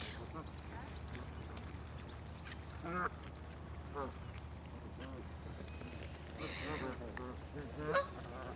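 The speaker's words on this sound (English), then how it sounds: "Some people are feeding the geese. Oh, loads of them." Geese being fed in a park honk in a scattered series of calls over a low outdoor hum, some loud and close, others fainter, with people talking in the background.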